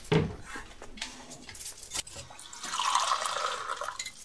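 Water is poured from a jug into a glass, a soft splashing pour in a quiet room after a light clink.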